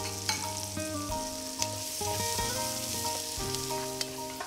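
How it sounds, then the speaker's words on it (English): Onion sautéing in a K-Art silver nano marble pot, a steady close sizzle with stirring scrapes, under a sustained background tone. "we'll saute the onion first"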